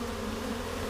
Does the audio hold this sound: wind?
no